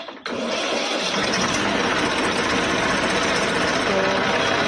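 An Indofarm tractor's diesel engine, just refitted with its fuel pump, cranks and catches, then settles into a loud, continuous, steady idle with a rough mechanical rattle, close by.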